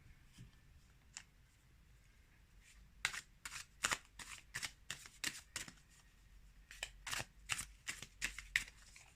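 Tarot cards are shuffled close by in quiet surroundings: a few soft flicks, then a rapid rhythmic run of crisp riffling snaps.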